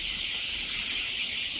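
Black egg-laying chicks of a high-laying breed chirping together, a steady, continuous high-pitched peeping from a brood close by, with no voices.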